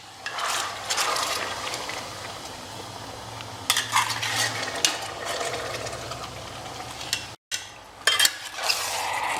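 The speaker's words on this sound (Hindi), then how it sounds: "अब इसको बढ़िया" Mutton pieces and masala being stirred in a cooking pot, with scraping and clinking of a utensil against metal and a soft sizzle, steady throughout with a few sharper scrapes and a brief dropout near the end.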